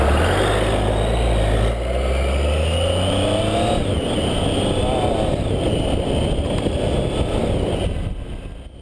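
A Triumph Tiger 800 motorcycle engine under way, a loud, steady close-up drone with rising pitch sweeps as it accelerates through the gears, wind roar underneath, fading slightly at the end.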